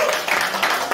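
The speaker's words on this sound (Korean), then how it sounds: "힘찬 격려의 박수 한번 부탁드리겠습니다" Applause from the audience at a mayoral candidate's press conference in Gumi, a steady broadband clatter of many hands filling the whole second at even loudness.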